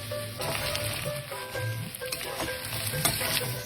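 Onion and capsicum frying for chilli chicken, a dense continuous sizzle with occasional spatula scrapes, close up, with a faint low hum underneath and no clear speech.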